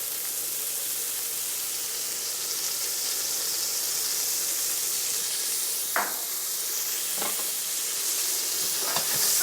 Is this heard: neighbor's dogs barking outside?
no